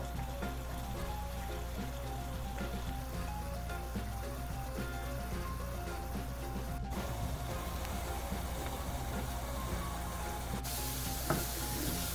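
Sliced onions fry in oil in an iron pot, making a steady quiet sizzle with a soft crackle throughout and an occasional faint clink.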